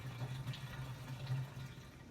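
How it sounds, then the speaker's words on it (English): Gasoline drains from the fuel tank of a jacked-up Mazda RX7, a faint, steady trickling pour into a container with a low constant hum underneath. "Draining the tank, who knows how much gas is in it."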